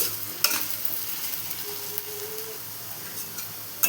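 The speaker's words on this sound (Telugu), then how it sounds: "కొంచెం హై ఫ్లేమ్లోనే పెట్టుకొని వేయించుకోవాలి" Potatoes frying in oil over a high flame, a close, steady hiss and sizzle with a few sharp pops and spatters, and no talking.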